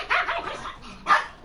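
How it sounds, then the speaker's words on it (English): Dogs in the Dark Souls 2 video game bark and yip in close, loud bursts, with a quick opening volley, softer growly follow-ups and one more sharp bark near the end. "Hey, dogs, be nice."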